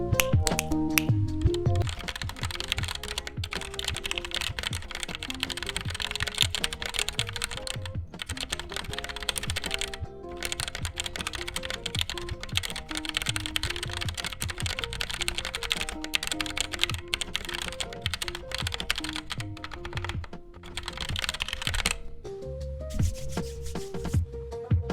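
Steady typing on a stock Koi61 budget mechanical keyboard with stock pre-lubed stabilizers. Close, continuous key clacks run through the clip with brief pauses and the occasional heavier thock of a larger key. No one speaks.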